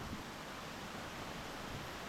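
A waterfall on a rainy hike in Georgia, heard as a steady, full broadband rush of falling water at an even level throughout, with no voices.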